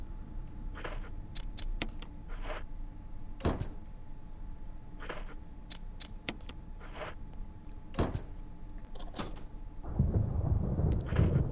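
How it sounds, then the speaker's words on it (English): Thunder rumbles in the Resident Evil video game, with scattered sharp cracks and a low, building roll that grows louder near the end. "Thunder again."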